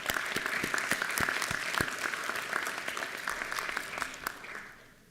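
Audience applause for graduating students at a university hooding ceremony, a dense steady patter of many hands clapping that fades slightly toward the end.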